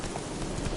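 Roach the horse gallops in The Witcher 3, a quick run of close, rhythmic hoofbeats over a dense game soundscape.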